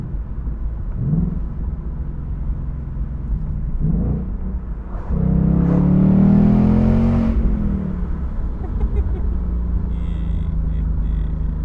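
A 2021 Ford Mustang GT Convertible with manual gearbox, exhaust in track mode, surges from a steady low rumble into a loud, rising acceleration roar that peaks and then settles back to a cruising drone.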